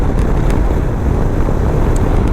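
Steady, loud wind buffeting a microphone while riding a Royal Enfield Super Meteor 650 motorcycle, a continuous low rumbling roar with no letup, like riding in open air at speed.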